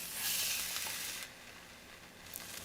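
Food cooking in the survival game No One Survived, a bright hissing sizzle that swells loud for about a second then drops to a quieter crackle, with a few faint clicks.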